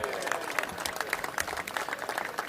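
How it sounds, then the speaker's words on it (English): Studio audience applause for a birthday on a live news broadcast, a steady dense wash of clapping lasting a couple of seconds, no voices over it. "it's his birthday today, so a round of applause for Gonzo."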